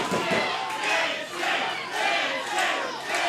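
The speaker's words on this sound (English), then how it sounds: "Hear the crowd getting behind Insane." A wrestling crowd at an independent show roars and cheers steadily, a dense, loud wash of voices swelling in waves and rallying behind a wrestler, with no distinct words.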